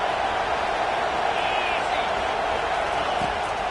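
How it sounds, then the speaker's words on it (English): A loud, steady roar from a stadium crowd at a football game on third down fills the air as a dense, sustained wash of cheering noise. "Third down, and this crowd is tearing the lid off this place."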